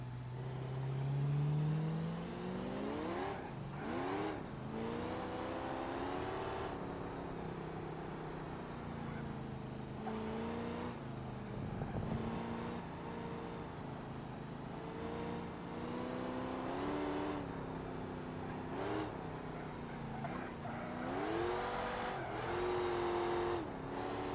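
Car engine in the BeamNG driving game revving and pulling hard through repeated gear changes, with rising and falling engine pitch over a sustained loud drone and occasional tire noise.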